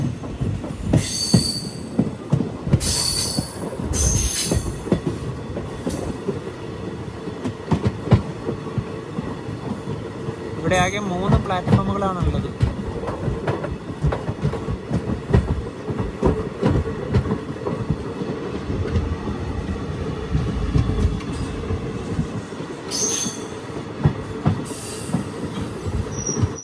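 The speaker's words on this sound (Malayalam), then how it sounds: "7:50 ട്രെയിൻ ഇതാ വള്ളിയൂർ റെയിൽവേ സ്റ്റേഷനിലേക്ക് എത്തുകയാണ്." The 7:50 passenger train pulls into Valliyur railway station on the Tirunelveli to Kanniyakumari line, rumbling and clattering close by with sharp wheel squeals. Someone speaks briefly partway through.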